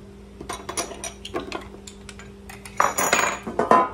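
A small metal baking pan, a size down from a 9 by 13, is picked up and set down, giving a few light clanks and taps before a louder clattering burst near the end.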